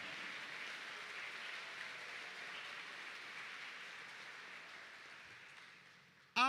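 Church congregation applauding during a Sunday Mass homily, a steady, distant wash of many hands clapping that holds evenly for several seconds before fading, with no talk over it.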